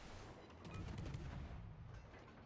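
Naval guns fire at a ship in World of Warships, a deep boom followed by rolling low rumble and crackle, fairly quiet overall and heard without talk.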